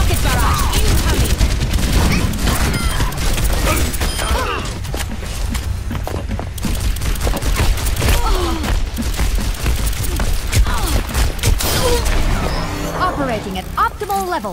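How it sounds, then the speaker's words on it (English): Dense, continuous rocket barrage explosions from Overwatch gameplay, with a rapid chain of booms and blasts filling the whole stretch at close range and voice lines mixed in. "Rocket barrage incoming."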